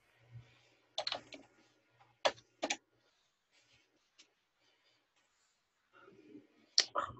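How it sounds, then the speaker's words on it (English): A handful of sparse, crisp keystrokes on a computer keyboard while entering data into an Excel spreadsheet, coming in short isolated clusters separated by quiet pauses. "Type LAU in cell E5."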